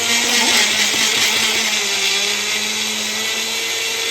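A mixer grinder grinds ingredients for potato bhajiya batter with a loud, steady, high-pitched whirring drone that runs without a break from start to finish, close by and with no voices.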